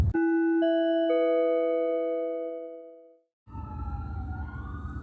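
Loud amplified police patrol siren tones ring out in sustained layered notes, fade, then a lower wailing siren rises over rumbling traffic noise.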